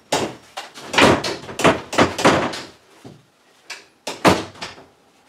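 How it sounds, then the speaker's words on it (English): A door is pushed shut indoors, with a run of loud, sharp thumps and knocks over several seconds followed by a couple of later bangs. "Shut the door!"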